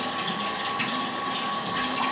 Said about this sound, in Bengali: এই জলটা মোটর ভরতেছি আমি।